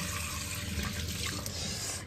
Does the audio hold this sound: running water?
yes